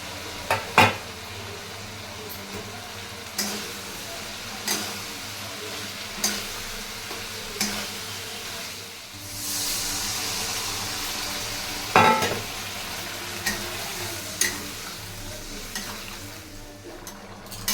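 Chicken sizzles steadily in a pan for chilli chicken while a spoon stirs it, with sharp scraping clacks against the metal every second or two over the constant close frying hiss.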